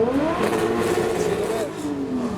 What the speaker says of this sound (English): That sounded like a Supra's giving the revolutions.